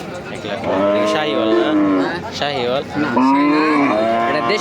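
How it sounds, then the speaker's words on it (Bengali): A red cow at a cattle market moos loudly and close by, two long drawn-out lowing calls, one after another. "অনেক সুন্দর একটা লাল গরু"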